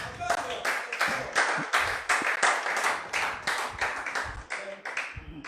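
A church congregation claps together in praise, producing a brisk, steady rhythm of many hands that carries on for several seconds with a lively, full sound.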